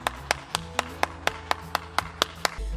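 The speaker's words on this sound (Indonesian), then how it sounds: "tepuk tangan dulu dong buat anak-anak Super Kids yang luar biasa" Claps from a children's Sunday school group at an online Easter service, about ten sharp, evenly spaced hand claps in a steady rhythm, close and clear with no talking.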